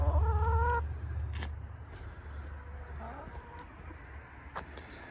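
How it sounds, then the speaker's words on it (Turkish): Backyard chickens clucking near a garden, with a loud burst of calls at the start and then scattered softer clucks over low background noise. "Bunlar da tavuklarımız."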